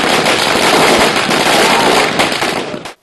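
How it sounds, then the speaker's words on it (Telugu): Party workers celebrating an election victory after the Kadapa MLC poll set off strings of firecrackers, a dense, loud, rapid crackling barrage that rattles on continuously for about three seconds before cutting off abruptly. "టపాసులు కాల్చారు, బైక్ ర్యాలీ నిర్వహించారు కార్యకర్తలు."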